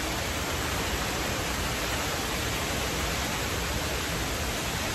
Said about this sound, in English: Wow, it's hailing.